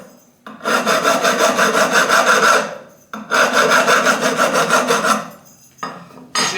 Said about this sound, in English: I'll take a quick file to it just to see what I can do here